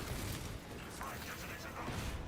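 Weapon reloading in the video game Space Marine 2: quick mechanical clicks and ratcheting clacks of a cartridge being cycled, sitting over a steady, dense wash of battle ambience with no clear gaps.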